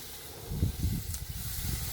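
Green beans sear on a Blackstone grill with a soft, steady hiss and low popping crackle close by.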